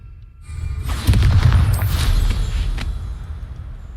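A Bombarda explosion spell blasts in Hogwarts Legacy, a loud booming burst with a swooshing rush that swells after a quiet start and rumbles on for a few seconds.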